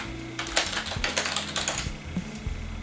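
Typing on a Logitech Comfort Wave MK550 keyboard, a quick run of clicky keystrokes in irregular bursts, close and fairly quiet, with a short pause near the end before the tapping resumes.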